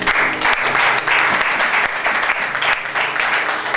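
A church congregation applauds loudly and continuously, a dense wash of clapping from many hands that holds steady throughout with no clear talk over it.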